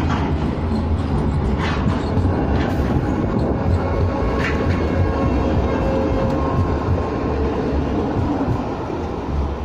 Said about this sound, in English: Stagecoach Super Tram 104.